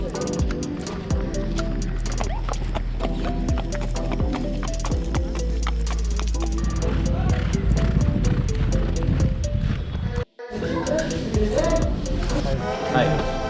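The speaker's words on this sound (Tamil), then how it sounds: "எத்தனை குதிரை இருக்கு பாருங்களேன் இங்கே." Horses at the Bangalore Turf Club, their hoof clip-clops and stable clatter running steadily throughout, close and fairly loud beneath ongoing talk and a tonal background hum.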